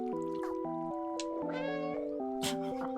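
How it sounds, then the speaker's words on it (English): A cat meows repeatedly during a cutscene of the Stray video game, several clear close meows over a sustained musical backdrop of held chords, with faint trickling water underneath. "The meowing in cutscenes."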